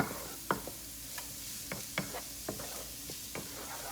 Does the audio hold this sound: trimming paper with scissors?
no